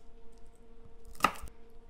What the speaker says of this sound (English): I like to cut the ends off the garlic first,